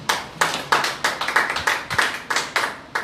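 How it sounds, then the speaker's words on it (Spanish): A church congregation clapping in a service, a run of loud, sharp, rhythmic claps at close range for about three seconds, with no talk over them. "Dale un fuerte aplauso a Dios."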